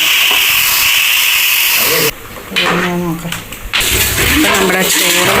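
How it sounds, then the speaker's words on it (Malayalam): Boiled water poured into a hot pan of chicken biryani, a loud steady hiss of steam and sizzling that briefly drops off and returns, with a voice speaking over part of it. "ഇനി നമ്മൾ തിളപ്പിച്ച് വെച്ച വെള്ളമാണ് ഒഴിച്ചു കൊടുക്കുന്നത്"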